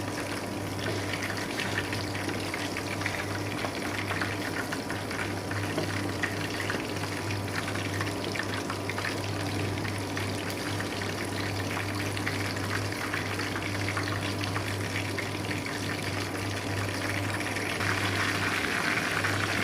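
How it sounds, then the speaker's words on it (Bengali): Chicken pieces fry in oil over medium heat, giving a continuous bubbling crackle close up, steady throughout with a low hum underneath. "এখন কিন্তু আমি মিডিয়াম হিটে ভাজছি, দেখেন।"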